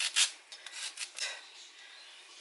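Kitchen gadget cutting carrots into strips for a salad, giving repeated close rasping, scraping strokes in an uneven rhythm with no talk.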